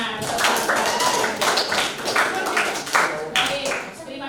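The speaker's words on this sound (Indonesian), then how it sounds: "kita beri tepuk tangan" A classroom of students clapping after a group presentation, a fairly close, uneven patter of hands in bursts, with a few voices mixed in.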